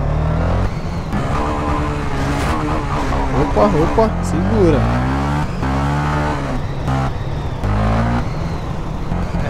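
A Twister 300F motorcycle ridden along a neighborhood street, its engine revving up and down in rising and falling pitch sweeps, close and steady, while riders talk and call out over the motor.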